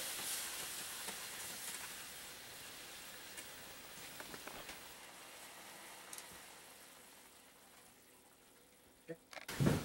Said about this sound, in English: we're going to deglaze our pan with just straight orange juice